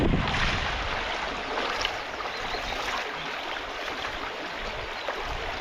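Water rushes steadily through a gold-panning channel in a UK stream, washing off a top layer of clay, a continuous close wash and gurgle with no talking.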